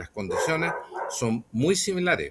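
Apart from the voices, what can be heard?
dog barking in background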